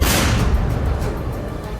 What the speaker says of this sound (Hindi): एक जोरदार धमाका करके उड़ा दिया